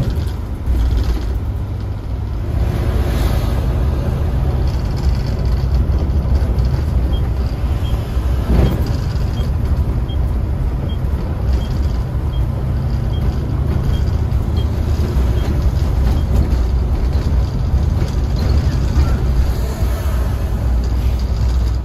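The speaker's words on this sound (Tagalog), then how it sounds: "noticeable na yung tagtag at maraming parts yung tumutunog pag dumadaan tayo sa lubak" Loud, steady interior drone of a DLTB Asia Star bus on the road to Bicol, with parts rattling and jolting over potholes and a brief sharper knock partway through; no talk.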